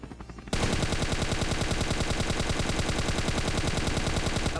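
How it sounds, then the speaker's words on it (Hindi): Rapid, sustained automatic gunfire erupts after a short quiet start and keeps rattling loudly with a dense mechanical roar of a helicopter beneath it, in the video game ScarFall 2.0. "सामने से मेरे को ना भाई एक हेलीकॉप्टर का साउंड आता है।"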